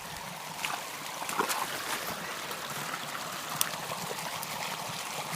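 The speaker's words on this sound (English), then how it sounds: "The water is flowing." Water flowing along an old watercourse on the Starr trail, a faint steady trickle and burble outdoors with occasional small splashes, nearby and quiet.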